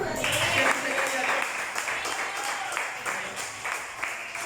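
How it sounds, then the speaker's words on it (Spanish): Church congregation claps during a Spanish-language sermon, a broad spread of hands clapping across the room that starts strong and slowly tapers. "Denle un aplauso a Dios."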